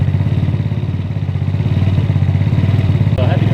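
A 139QMB 50cc scooter engine fitted with a big bore kit and a 24mm CVK carburetor from a GY6 150cc idles steadily up close, with a fast even putter and a brief clatter near the end.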